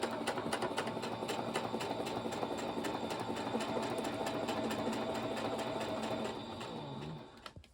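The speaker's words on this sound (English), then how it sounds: "you just sewed the two ends together to create the final length" A sewing machine stitches the ends of speaker grille cloth together during an RCA Tapestry Model 103 speaker restoration, running steadily and close with a fast rhythmic mechanical chatter that holds for about six seconds before easing off near the end.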